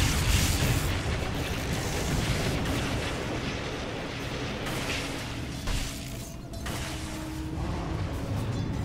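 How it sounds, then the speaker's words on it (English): A defensive tower is destroyed in Dota 2, with a dense, sustained rumble of crumbling and explosive noise that stays loud for several seconds and fades slightly near the end. "Dire's top tower has fallen."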